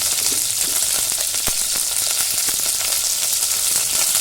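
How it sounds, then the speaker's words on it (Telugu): Onion, green chilli, carrot, potato and other vegetables fry in a little oil with a steady, close hiss and crackle, with a few faint stirring clinks. "కొంచెం నూనెలో కొంచెం సేపు ఫ్రై అవ్వాలి కదా"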